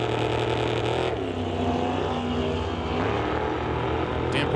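Drag racing cars, the Quality Racing Duster and the SS Motorsports S10, rumble and drone with loud engines at a strip, a steady roar with a shift in pitch partway through.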